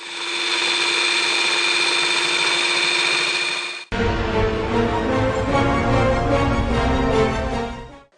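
A demonstration model of a mixing machine runs at a Kerala school science fair, first as a loud steady whirring motor drone, then after an abrupt cut as a rougher, rattling mechanical churn, continuous and close with no talking.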